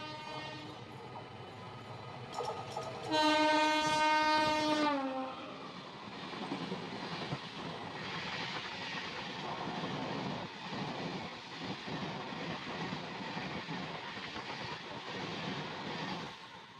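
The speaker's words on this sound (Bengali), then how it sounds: "কুলিক আসছে ফুল স্পিড আমাদের ওভারটেক মারবে" A Kulik Express train passes at full speed on an Indian rural line, its horn blaring loudly for a couple of seconds before a long steady roar and rattle of wagons rushing past close by.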